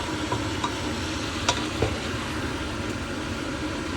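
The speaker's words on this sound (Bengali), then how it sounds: "এখন জাস্ট হচ্ছে আমি এগুলোকে হালকা নেড়ে চেড়ে সিদ্ধ হতে দিব।" Chinese vegetables stirred lightly in a pan over a steady low simmering and bubbling hiss, with occasional faint clinks of the spoon, heard alone without speech.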